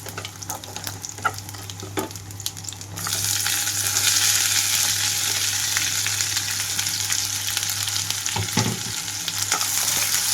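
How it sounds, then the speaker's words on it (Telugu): Chopped onions and green chillies frying in a hot pan for a leafy-greens curry, a steady loud sizzle that jumps up in intensity about three seconds in as they hit the oil, with occasional stirring scrapes. "కట్ చేసి పెట్టుకున్న ఉల్లిపాయలు అలాగే పచ్చిమిరపకాయలను కూడా ఇందులోకి వేసేసుకుంటున్నాను"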